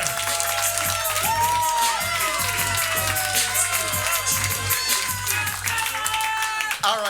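A comedy club audience at a roast battle at The Riot Comedy Club claps and cheers loudly and continuously, with shouts and whoops rising over dense applause from start to finish.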